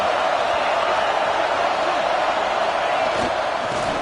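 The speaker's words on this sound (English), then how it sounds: "Decibels rising as the crowd gets behind this defense on third down." A stadium crowd in the college football game NCAA 26 roars steadily behind the defense on third down, a dense, constant wash of noise under a commentator's voice.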